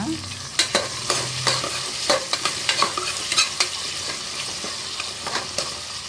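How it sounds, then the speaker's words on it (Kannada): Cabbage and peas fry in a hot pan for a vegetable bath dish. A steady sizzle runs underneath, broken by repeated scraping strokes of a spatula stirring, close and clear, with no voices. "ಫ್ರೈ ಮಾಡ್ಕೊಳ್ಳೋಣ"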